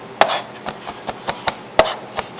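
A knife chops mashed garlic cloves on a board in about eight sharp, evenly spaced strokes, close and crisp, with a pause before the last few.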